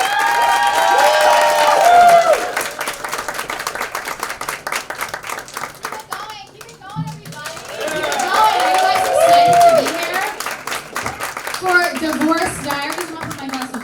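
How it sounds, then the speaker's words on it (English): Audience claps and cheers for a performer at a live comedy show, the noise swelling and dipping with whoops and shouts rising over the clapping, and a voice heard through it. "Let's give them a round of applause."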